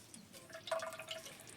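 Whey drips faintly from hand-squeezed chhena curds as the excess water is pressed out, a few soft, sparse droplets close by in a quiet kitchen.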